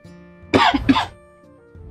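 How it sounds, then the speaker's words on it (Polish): A person coughs twice in quick succession, a loud, close, harsh double cough followed by quiet room tone, heard while opening Hearthstone card packs at a desk. "Jeszcze mnie ten kaszel dusi niestety, nieszczęsny."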